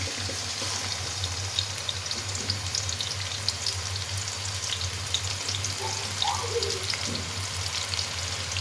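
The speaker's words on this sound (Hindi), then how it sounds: "ऑयल हमारा अच्छे से गर्म हो चुका है। अब इसमें हम ऐड करेंगे चॉप किए हुए प्याज।" Chopped onions fry in hot oil with a steady, moderately loud sizzle and light crackling throughout, accompanied by a low steady hum and the occasional faint clink.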